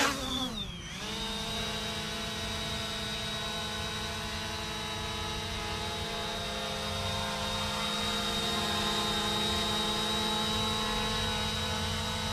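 A Snaptain SP700 brushless GPS camera drone flies close by with a steady, loud high-pitched whine and buzz that holds for the whole stretch, after a brief dip in pitch at the start.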